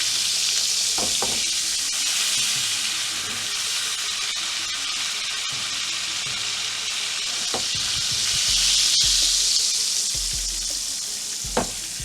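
Salmon patties sizzle steadily in a pan of melted butter and oil, a continuous close frying hiss with occasional stirring clinks and scrapes, no voices.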